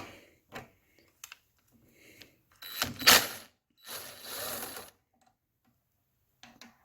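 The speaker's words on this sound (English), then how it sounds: "on to taking off this carburetor. Like I said, a couple of 3/8 bolts." A ratchet wrench loosening the 3/8-inch bolts on a lawnmower carburetor, quick clicking bursts separated by pauses, close and fairly quiet.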